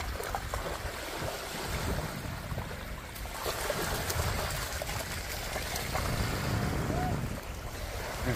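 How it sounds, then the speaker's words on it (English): Waves on Ullswater lake in the Lake District wash steadily against the shore with wind noise buffeting the microphone, a continuous close rushing roar with no talk. "Here's the waves."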